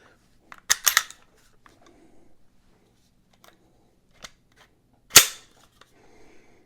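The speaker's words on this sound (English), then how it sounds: "we're going to reassemble the gun much like you reassemble a Glock" A modified SIG P320 pistol being put back together at close range: a quick cluster of sharp metallic clicks and snaps, a few faint ticks, then one louder snap after a quiet pause.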